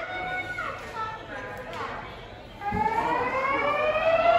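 A fire alarm sounds in a Las Vegas hotel, repeating rising electronic whoops that start partway in and grow louder, with people talking nearby over the alarm.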